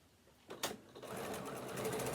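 Sewing machine stitching interfaced fabric pieces of a tablet holder, a steady continuous whir starting after a couple of brief bumps and holding close and even to the end.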